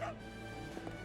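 A dog barks and yips in a video game, short and fairly near over a steady background of game music.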